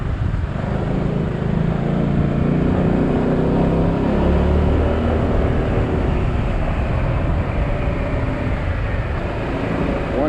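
A SYM Maxsym 400 scooter climbs uphill at 4000 RPM, its engine a steady, loud, close drone mixed with rushing wind that holds constant throughout, with no talk.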